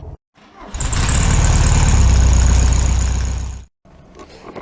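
A 1967 VW Beetle engine cranks and catches after a brief pause, then runs at a loud, steady idle close by for several seconds before cutting off abruptly.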